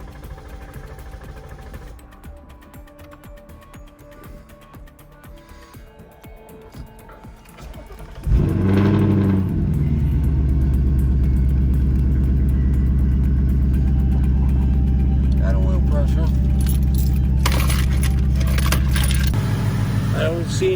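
Keys jangle and click, then an engine cranks and catches around eight seconds in and settles into a loud, steady idle after a fresh oil change, with a slight step in tone near the end.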